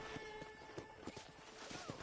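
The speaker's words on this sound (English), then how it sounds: "I picked out a fine horse for you." Hooves clip-clop in an uneven walking rhythm from a horse in the Red Dead Redemption video game, close and moderately loud, with a possible faint whinny and soft game ambience beneath.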